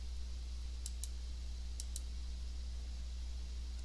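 Two quick pairs of computer mouse clicks while working in a spreadsheet, crisp and close, separated by about a second over a steady low hum.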